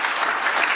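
Conference audience applauding, a dense, steady wash of many hands clapping at close range, loud and unbroken.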